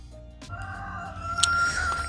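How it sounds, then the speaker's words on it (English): A rooster crows loudly and close by, one drawn-out cock-a-doodle-doo rising over steady background noise, with faint clucking around it. "I found the chicken that's making all the noise."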